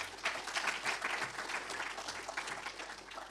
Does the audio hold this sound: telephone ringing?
no